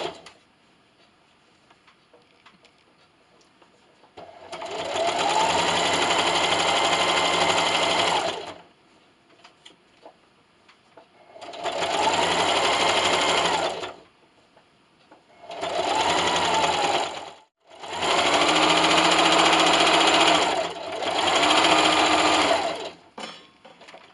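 A sewing machine fitted with a walking foot stitches a 1/4-inch quilt seam on a quilt-as-you-go table runner in four separate bursts of steady whirring, with quiet pauses and faint handling between them.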